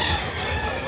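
Brief burst of gamefowl roosters clucking and crowing among a crowd of birds in Cebu, a continuous layered chorus without any voices.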